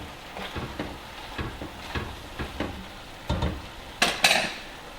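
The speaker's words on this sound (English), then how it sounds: "We're just going to give that a quick stir. Just get it all nice and mixed in." Chili with bacon gets a quick stir in a pot, a series of short scraping and clinking strokes in an uneven rhythm, ending in a couple of louder knocks against the pot over a faint sizzle.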